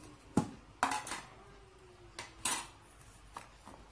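Cut potato pieces tossed with cornstarch and seasoning in a bowl, heard as a few sharp clinks and knocks of a utensil against the bowl with soft scraping between them, quiet and close, no talking.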